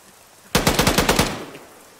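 Rapid automatic gunfire in an Arma military squad-training game: a sudden close burst of roughly eight sharp shots in quick rhythm, fading into a short reverberant tail.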